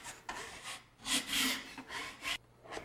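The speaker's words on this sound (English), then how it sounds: "we start by scraping down the edge and scraping down any ridges in the mud" A taping knife scrapes down ridges of drywall joint compound on an outside corner bead, giving several short, rough scraping strokes, close and moderately loud, with brief gaps between them.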